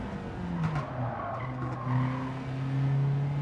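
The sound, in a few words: car braking with tire skid in a racing video game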